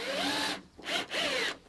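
A power drill drives a screw into the center of a timber post for a 9-inch raised garden bed, giving two short whining bursts of the motor, close and moderately quiet.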